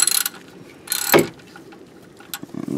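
Ratchet socket wrench with an extension, used to remove a part during an oil filter change on a Toyota Sienna: short, loud bursts of rapid clicking near the start, in the middle and at the end, separated by quieter stretches.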